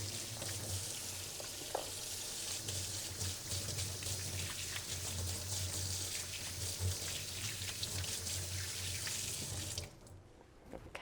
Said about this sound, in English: I'm going to go quickly wash my hands over here at the sink.